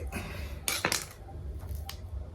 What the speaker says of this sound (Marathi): हे लिंबू आपल्याला कापून घ्यायचे बघा बघा आपल्याला हे लिंबू असे कापून घ्यायचे